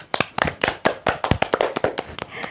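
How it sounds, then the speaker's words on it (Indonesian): Children in an Indonesian-language classroom lesson clap for a classmate, about a dozen distinct, fairly close hand claps in a loose, uneven rhythm with no voices over them. "Anak-anak berikan tepuk tangan dulu nih untuk Adam"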